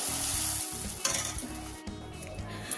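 Rice-flour sharu chakli pitha frying in a pan, a steady close sizzle with soft rhythmic scraping and stirring pulses repeating about every half second, no voices.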